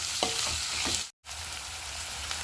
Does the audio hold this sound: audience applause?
no